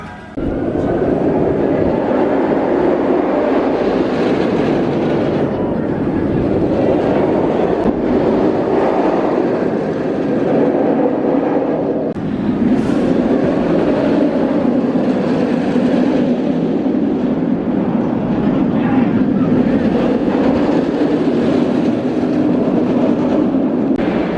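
A B&M roller coaster train, Kumba, rumbles and roars continuously along its track at moderate distance, with surging waves of rolling noise and occasional clatter.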